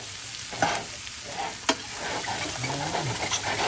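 Bacon and cabbage frying in a pot, a steady broadband sizzle with a few sharp scrapes and clinks from stirring, close and fairly loud, with a faint low hum underneath and no talking.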